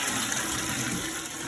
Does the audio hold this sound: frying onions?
no